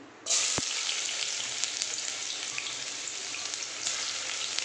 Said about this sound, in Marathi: कांदा 2 सेकंद परतून घेते